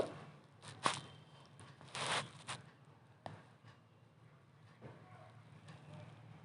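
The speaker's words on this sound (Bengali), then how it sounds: "প্ল্যাটফর্ম নম্বর 1-এর থেকে আমাদের ট্রেন ছেড়ে দিল" Kanchenjunga Express pulling out of platform 1 at a station: a faint, steady low rumble of the train with a few soft clunks and brief rattling bursts, heard from on board.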